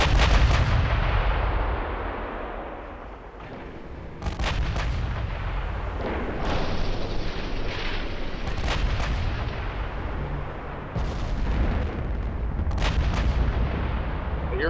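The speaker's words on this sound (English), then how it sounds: "They're firing already." Naval artillery thunders in the warship game Ultimate Admiral Dreadnoughts, with booming salvos from battleship guns repeating at irregular intervals over a loud, continuous roar of battle.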